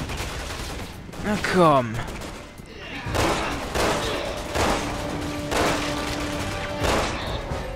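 Gunfire in the video game Resident Evil 6 comes in several loud, sharp bursts spaced a second or so apart, with someone talking over it and other game sounds around it.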